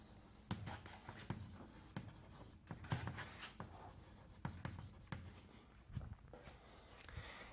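Chalk or marker strokes on a board during a set theory mathematics lecture, a steady series of scratchy taps and short scrawls spread across the span, fairly near and moderately loud, with no talking.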